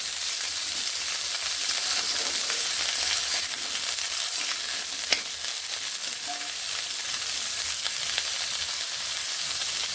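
Vegetables frying in a pan, a constant close sizzle and crackle running for the whole stretch, with a few faint stirring clicks and no talking.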